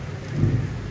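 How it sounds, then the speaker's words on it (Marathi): Steady rain falling, a dense hiss of drops with a low rumbling undertone, continuous and moderately loud throughout. "पाऊस पडतो आता"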